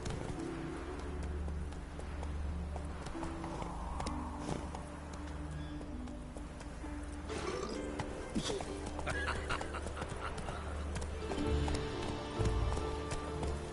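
Roach, Geralt's horse in The Witcher 3 on PS4, gallops with a rapid clip-clop of hooves among chirping birds and outdoor game ambience, the hoofbeats moderately loud and continuous.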